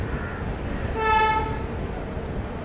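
Mysore–Chennai Shatabdi express train halted at a signal near Jolarpettai Junction: a steady low rail rumble with a single brief, tonal horn sounding midway.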